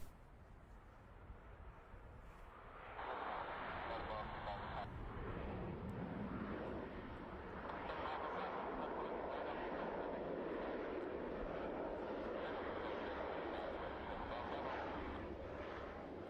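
Airliner coming in to land at Manchester Airport, a distant engine rumble that rises sharply and then holds as a broad steady roar, with faint talk underneath.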